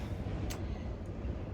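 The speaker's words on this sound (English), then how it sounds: "you can hear, it's like super windy" Low, steady rumbling wind buffets a microphone at a campsite in Meredith Park, Victoria, with a brief faint hiss rising briefly in the middle.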